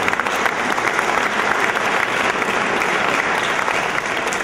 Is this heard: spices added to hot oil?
no